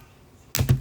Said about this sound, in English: this is the correct way to trim zip ties